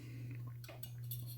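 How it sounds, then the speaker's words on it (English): A metal fork scrapes across a plate of cooked pork chops in a kitchen, a few short scratchy strokes close by over the steady hum of a running fan. "Oh, that scraping sound."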